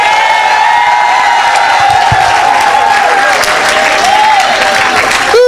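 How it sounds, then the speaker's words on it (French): Loud, continuous applause and cheering from a church crowd at a healing service, steady clapping with whoops rising above it, a sustained tone running underneath, and a brief sharp shift right at the end. "Acclamez pour la Chine."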